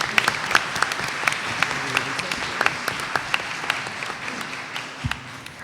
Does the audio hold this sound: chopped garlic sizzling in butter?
no